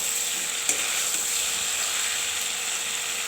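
Vegetables with sidol (fermented dried fish) and pumpkin sautéed in a pan give a steady soft sizzle with light scraping stir strokes and a sharp clink near the start, no talking.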